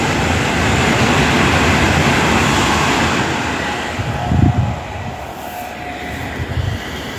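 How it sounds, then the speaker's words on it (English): An underground train leaves London Euston for Watford Junction, a loud, steady rumble of rolling stock close by with a few clunks as it pulls away. "So 10261 leaves the underground service from London Euston to Watford Junction."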